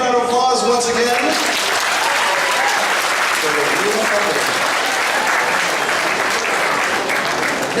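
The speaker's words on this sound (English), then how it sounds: "Big round of applause once again" A crowd at an anime convention costume contest bursts into loud, sustained applause, with cheers at the start fading into steady clapping.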